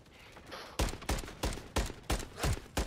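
Seven sharp, loud video-game gunshots fire in quick succession in Call of Duty MW3, each crack followed by a short decay.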